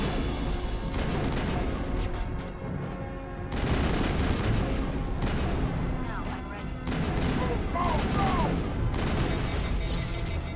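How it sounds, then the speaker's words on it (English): Sustained gunfire in Mass Effect 1 as shots pound a wall, rapid bursts with a brief lull near the three-second mark before the firing resumes loudly, with faint game effects beneath. "Shooting a wall."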